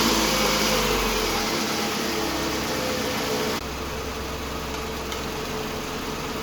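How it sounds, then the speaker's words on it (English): A car engine idles steadily with a low constant hum alongside a broad, blowing hiss like air conditioning running at full cold, the level dropping slightly partway through, with no talk. "Go ahead and hop in the car, turn the car on."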